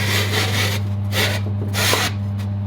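Soft insulating bricks scrape and rub as they slide into a blacksmithing forge, making several rough, close strokes over a low steady hum, with no voices.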